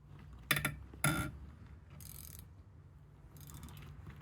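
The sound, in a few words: Gearwrench 3/8 drive XL 120xp ratchet cracking bolts loose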